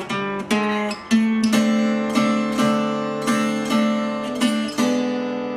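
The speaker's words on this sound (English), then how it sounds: "So you do like 6 strums of this chording." An acoustic guitar strums the chords of a song in a repeated pattern of about a dozen bright, ringing strokes, each decaying before the next, played close and clear with no voice.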